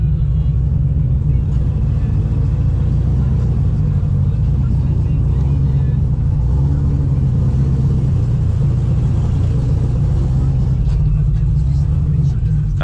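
An 800 HP supercharged C6 Corvette is driving, with a loud, steady, deep engine rumble and road drone filling the cabin throughout.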